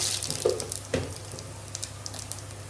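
Kochur loti (taro stolons) and prawns dropped into hot oil in a wok, giving a soft sizzle with a couple of brief splashy bursts near the start, then a steady faint frying hiss over a low hum.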